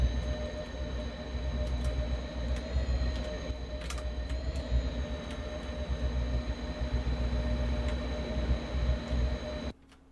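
A Caltrain Baby Bullet with a Nippon Sharyo cab car rumbles along the Peninsula line in the game Train Sim World, a continuous close rolling drone with faint clicks and high whines, cutting off abruptly at the end.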